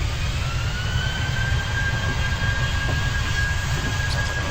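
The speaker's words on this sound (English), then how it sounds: "Sounds like another plane getting ready to take off" In the Train Simulator 2016 game, near Glasgow Airport, an airplane gets ready to take off with a steady, loud jet roar and a rising whine that holds throughout over a low rumble, with no voices.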